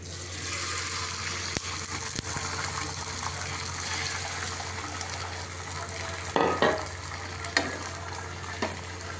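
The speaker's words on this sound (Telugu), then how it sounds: "ఇప్పుడైతే ఆమ్లెట్ ప్యాన్ మీద పోసుకుంటున్నాను గైస్." Omelette egg mixture frying on a pan, giving a steady close sizzle with a few short scrapes or clatters near the end.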